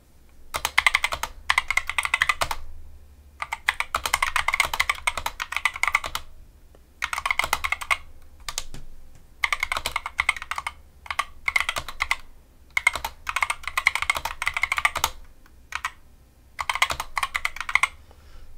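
Rapid, close-up typing on a Dierya DK61 keyboard, with bursts of crisp key clicks separated by short pauses as most of the keys are pressed in turn.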